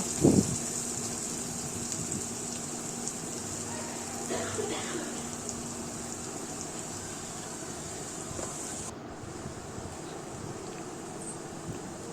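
Onions are stirred and fried in a pan over a gas flame, making a steady hissing sizzle throughout that briefly thins near the end.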